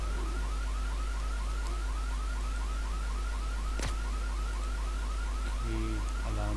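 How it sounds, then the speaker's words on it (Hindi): An alarm sounds in the IGI 2 Covert Strike video game, a repeating rising electronic whoop pulsing steadily under constant background hum, joined by other in-game tones near the end. "ये अलार्म बज गया है"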